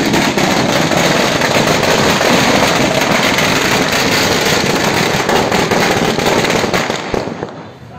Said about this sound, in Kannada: ಬ್ಯಾಂಕಿನ ಮುಂದೆ ಪಟಾಕಿ ಸಿಡಿಸುವುದರೊಂದಿಗೆ ಸಂಭ್ರಮ ಆಚರಿಸಿದ ಅಭಿಮಾನಿಗಳು.